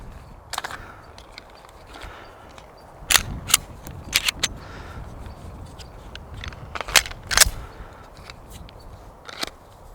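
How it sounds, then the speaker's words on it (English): Handgun shots firing 124 grain full metal jacket rounds at close range, several sharp cracks spaced irregularly over a quiet background, some in quick pairs. "so now we're gonna shoot 124 grain"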